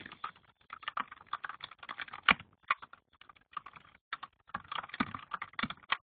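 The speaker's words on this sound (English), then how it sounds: "And Sharmila, can you just type through if you can hear me?" Fast, irregular clicking from fingers typing on a computer keyboard, with bursts of rapid keystrokes and a short pause near the middle, heard close and on its own.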